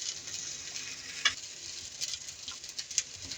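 Tater tots fry in a pan over low heat, giving a steady, soft sizzle with occasional small pops and crackles and no voices.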